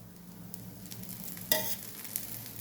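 Ragi dosa sizzling on a pan with a few drops of oil, a faint steady hiss with one brief louder crackle midway, close and without talk.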